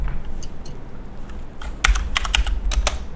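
Rapid computer keyboard typing during a Minecraft-style modded game session, with a sparse scatter of keystrokes at first and then a quicker burst of close, crisp clicks over low room hum.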